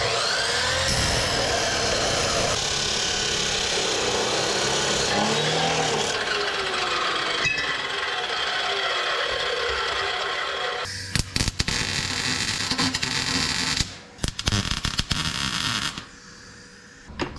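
Tack welding an exhaust pipe under an old Plymouth Fury: a long, steady crackling hiss runs close by, then gives way to short, sharp bursts of sizzling as separate tacks are laid down, with no talking.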